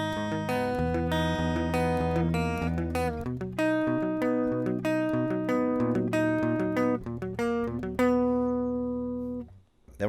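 An acoustic guitar strums a chord sequence from a song lesson, with sustained ringing chords changing steadily before fading out at the end.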